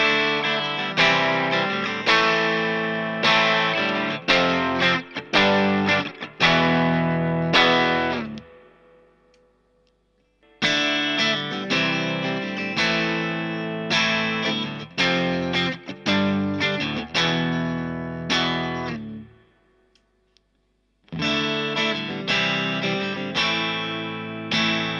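A Telecaster electric guitar, volume and tone full, plays through a slightly overdriven Vox amp with a touch of amp reverb. It is strummed in bursts of chords with short pauses between phrases, loud, close and alone.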